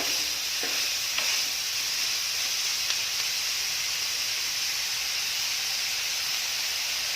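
Sliced onions sauté with a little salt in a pan, giving a steady, close sizzling hiss that runs unbroken throughout with faint stirring scrapes and no talking.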